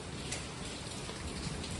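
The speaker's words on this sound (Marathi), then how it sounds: "पाऊस" Steady rain pours onto a terrace garden beside a building under construction, a dense, even hiss of drops close by with no pauses and no voices.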